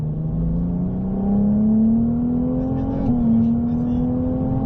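A Ferrari 298 GTB rated at 820 hp drones steadily from inside the cabin on the La Ferté-Gaucher circuit, its engine pitch climbing gradually under acceleration while an instructor speaks briefly.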